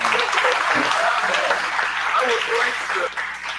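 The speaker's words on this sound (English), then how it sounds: "One more round of applause for everybody." An audience at a Black August celebration hosted by a community radio station gives a full round of applause, a dense, loud wash of clapping that fills the whole stretch before tapering slightly at the end.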